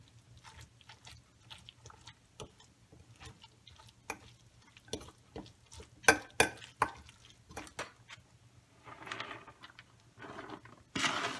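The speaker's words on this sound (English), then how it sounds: "now I'm going to mix it all up together and then get the rest of the zucchinis in there." Zucchini noodles are stirred with a blended raw sauce in a big bowl, giving soft irregular wet squelches and clicks, close and fairly quiet, growing busier toward the end.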